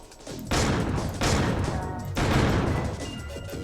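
Video game gunfire comes in three long, dense bursts of rapid shots, loud and close, with short gaps between them and no talking.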